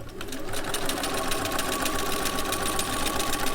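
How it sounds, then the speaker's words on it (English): A sewing machine runs steadily, its needle chattering rapidly and evenly while stitching a quarter-inch seam joining fabric pieces, close and continuous with no talk. "So go ahead and sew those together."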